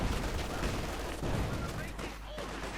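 Distant, dense bursts of machine gun and rifle fire from a Company of Heroes 2 1v1 battle, with the fire continuing under the steady din of combat.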